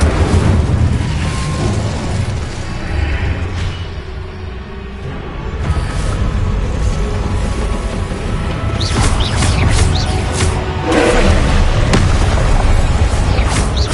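Fire spell explosions from Incendio and similar combat spells in Hogwarts Legacy on PS5: loud, repeated booming bursts over a dense, rumbling battle din, with several sharp blasts near the end.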